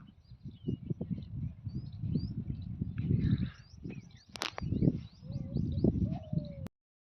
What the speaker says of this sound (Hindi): ये हमारे कौवा